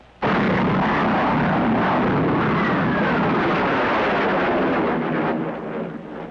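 Supersonic jet aircraft noise arriving after a high-speed pullout, a sudden loud broadband roar that bursts in and holds steady for several seconds before easing slightly, heard from the ground.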